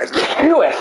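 A single sharp sneeze bursts out during a pinball game session, close and loud over a noisy background, with a brief spoken remark nearby.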